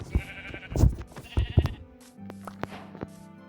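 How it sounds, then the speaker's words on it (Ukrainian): A black sheep in Minecraft survival gives a few short, close bleats with gaps between them, alone with no talking over it. "Вівця."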